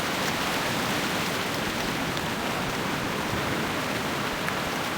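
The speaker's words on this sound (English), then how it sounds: "it's raining in the deep forest" Rain falls steadily in a deep forest in the game Turtle WoW, a dense, even hiss with no breaks, voices or other sounds.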